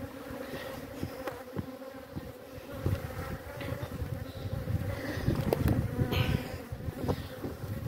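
Honey bees hum around packaged hives in a dense, steady drone close by, with individual buzzing passes rising and falling, no talking.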